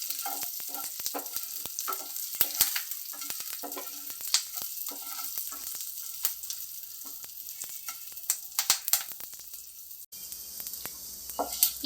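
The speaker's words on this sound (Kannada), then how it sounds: "ಈಗ ನೋಡಿ, ಇದು ಚೆನ್ನಾಗಿ ಫ್ರೈ ಆಗಿದೆ." Two Byadagi chillies fry in a pan for palak sambar, a close, continuous crackling sizzle broken by sharp irregular pops and spatters, with no voices.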